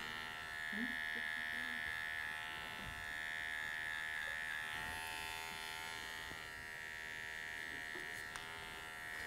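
Electric hair clipper buzzing steadily during a barber class haircut, a continuous close hum with slight changes as it moves through hair.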